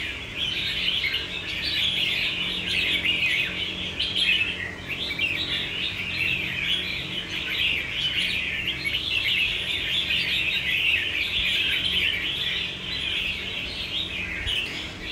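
Red-whiskered bulbul chirping steadily and fairly close, a dense continuous run of bright calls and trills over a low hum of background noise.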